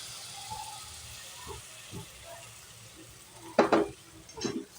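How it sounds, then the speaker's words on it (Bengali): A ground paste of cashew, melon seeds and poppy seeds frying in a pan for matar paneer, with soft sizzling and a few bright scraping bursts of stirring toward the end. "এবার এটাকে ভালো করে একটু ভেজে নিতে হবে, যেন পুড়ে না যায়।"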